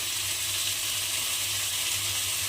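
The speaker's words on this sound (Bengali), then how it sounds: "মশলাগুলো আমি খুব ভালোভাবে কষে নিয়েছি" Turmeric going into a pan of spices that have been well fried in oil, for chana dal with pickle; a steady, close sizzle and crackle holds throughout with no talking.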